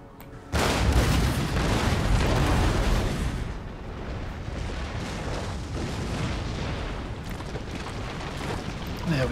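Artillery guns fire in a sudden loud roaring barrage in Empire: Total War, the boom rolling on and rumbling for several seconds before easing into a sustained lower rumble.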